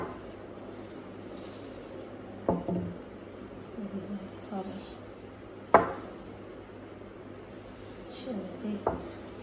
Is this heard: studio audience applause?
no